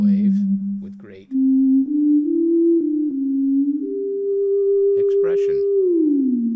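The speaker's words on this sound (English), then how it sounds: "So now I can play a sine wave with great" A pure sine tone played on a Haken Continuum synthesizer glides smoothly between sustained pitches with slight vibrato, loud and close, while a person speaks over parts of it.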